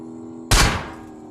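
A single loud, sharp gunshot in the video game BGMI cracks out and rings briefly into a fading rumble over a low electronic hum.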